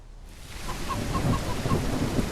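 Thunderstorm in the survival game Mist Survival: a steady rumble of rain and thunder that builds in after a quiet start, with faint repeated chirps over the rolling low noise.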